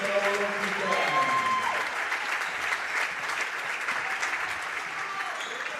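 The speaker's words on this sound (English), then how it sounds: "She'll get a nice round of applause as one of the seniors." A crowd applauds a senior player at a girls' high school basketball game, steady clapping filling the gym throughout, with faint voices mixed in.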